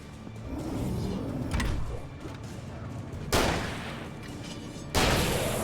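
In the video game Alan Wake, loud, sharp bursts go off over a rumbling in-game background, with a big blast near the middle and another near the end.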